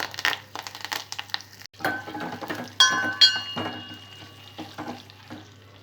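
Dried red chillies, garlic and curry leaves sizzle in hot oil in a pan for a lemon ginger rasam tempering, with stirring scrapes and a few metal clinks, close and moderately loud.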